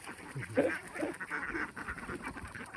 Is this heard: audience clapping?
no